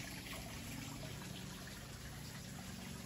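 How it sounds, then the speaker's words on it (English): Garden water feature trickling steadily in an exotic garden beside a barn, a soft continuous wash of running water heard close by, with no voices. "What a place to sit with a water feature"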